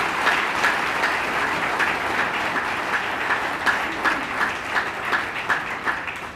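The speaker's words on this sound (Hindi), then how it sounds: "जोरदार तालियां बजाओ उन सभी के" Sustained audience applause at a BRSP party political rally, a dense, steady wash of many hands clapping with small swells throughout, fairly close and loud with no voices standing out.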